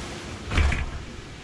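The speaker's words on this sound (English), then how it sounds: "bring this door closed a little" A sliding pocket door in a 2021 Grey Wolf 23DBH bunkhouse travel trailer glides shut with a single soft rolling thud, close by and brief, with no talking over it.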